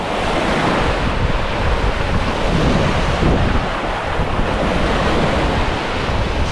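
Choppy waves slap and wash steadily on a large French lake while strong wind buffets the microphone, loud and continuous with no talk.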